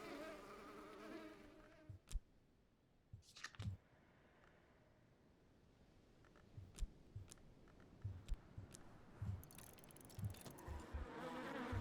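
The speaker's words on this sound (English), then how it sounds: "Bees." Bees buzz faintly in the video game Book of Hours, a soft, continuous drone broken by scattered light clicks and ticks.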